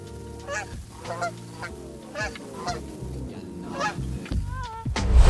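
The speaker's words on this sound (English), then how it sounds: "there's even some geese flying right up ahead" A flock of geese flies overhead, giving repeated nasal honks at irregular intervals over a steady low background hum, and the calls grow louder toward the end.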